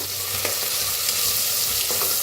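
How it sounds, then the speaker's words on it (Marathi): Crushed green chili and garlic fry in hot ghee with a loud, continuous sizzle and faint stirring scrapes, and no voices over it. "आता हिरवी मिरची लसूण चेचून घेतलेला भाजून घेऊया"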